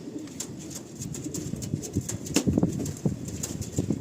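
An Andhra pigeon cooing close by, a run of soft low throaty coos with a few wing flutters.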